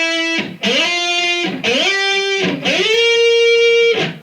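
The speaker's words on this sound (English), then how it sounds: "it sounds like this slide comes from nowhere and slides into a note" Electric guitar with a distorted tone sliding up into sustained notes, three quick gliding slides that each land on a held, ringing pitch, loud and close with no talking.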